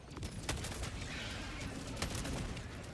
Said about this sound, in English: I think it's supposed to be like some form of like gunfire echoing off the buildings.